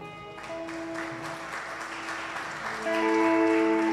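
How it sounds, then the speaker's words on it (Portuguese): A church congregation applauds in praise of the Lord during a sermon, a steady wash of clapping that swells louder near the end, with sustained keyboard or organ tones held underneath. "Você pode dar um aplauso para o Senhor?"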